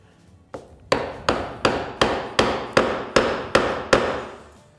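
Mallet blows driving a Narex mortise chisel straight down into wood: about nine sharp, evenly spaced knocks, close and loud, each with a short woody ring.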